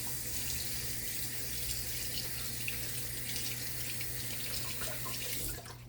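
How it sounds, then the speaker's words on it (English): Tap water runs steadily into a kitchen sink during hand washing, a continuous close hiss that holds even for several seconds before cutting off near the end, with no talking. "Let me wash my hands real quick."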